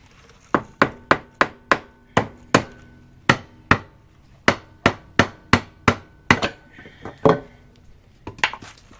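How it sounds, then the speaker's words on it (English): A rubber mallet taps a motorcycle clutch case on a Honda Grom about twenty times, sharp thuds in irregular bursts, close and loud, with a brief faint rattle near the end. "I'm gonna tunk this with a rubber mallet and try to get the case to set"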